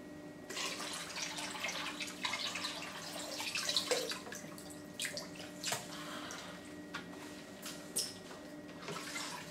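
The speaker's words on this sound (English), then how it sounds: "Empty out the water into a bucket." Water splashes and trickles into a container, with drips and small gurgles over a steady pour, close and fairly quiet.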